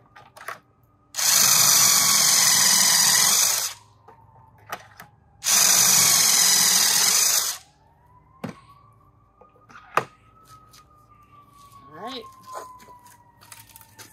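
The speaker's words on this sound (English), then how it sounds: "I'm going to drill one on either side for the top." A power drill bores pocket holes in wood for an antique fireplace mantel, two long, loud, steady whirring runs with a pause between, followed by quieter knocks and handling sounds.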